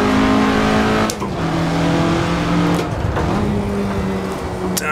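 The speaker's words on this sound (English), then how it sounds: "I can get back on the gas using all the available runoff" A 1967 Russell Alexis Mk.14 Formula Ford racing car in Assetto Corsa, its engine loud and close, revving up through the gears in rising pulls with quick shift breaks between them.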